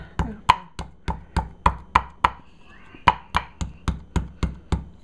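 Garlic, about four cloves, is pounded in a mortar and pestle in a home kitchen, a close, crisp series of about fifteen sharp thuds at a fairly even, brisk rhythm.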